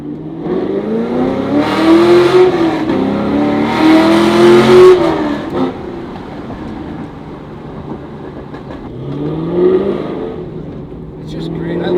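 A Camaro's rear-wheel-drive V8 revs on a test drive, its engine note climbing through two strong surges, then easing off before a shorter rise near the end.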